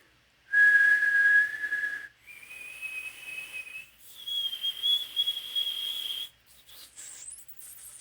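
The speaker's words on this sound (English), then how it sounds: "I will whistle for a moment and you'll see a high frequency up here." A person whistles three sustained notes, each held for over a second and stepping higher in pitch, with a breathy hiss and short pauses between.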